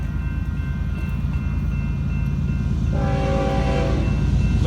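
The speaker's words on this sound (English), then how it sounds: "Today, guys, we got a train coming." A Union Pacific freight train hauling containers rumbles past close by in Benson, Arizona, a loud steady roar of wheels on rails, then its horn blares in a sustained chord partway through.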